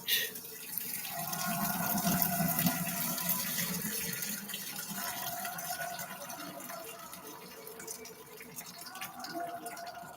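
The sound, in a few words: draining pasta water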